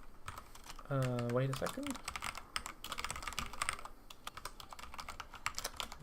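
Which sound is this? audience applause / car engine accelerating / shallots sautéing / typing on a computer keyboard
typing on a computer keyboard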